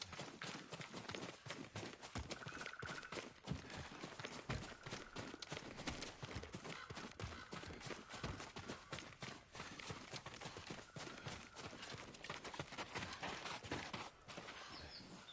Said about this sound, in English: We'll leave the horses to avoid being seen.